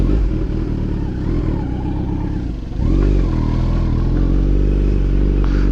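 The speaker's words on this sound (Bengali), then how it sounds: "অন করবো, দেখতে পাচ্ছ কাওয়াসাকি" A Kawasaki Z900 superbike engine idles with a steady low rumble, then starts up louder partway through and holds a strong, rough running drone with a revving rise, close by.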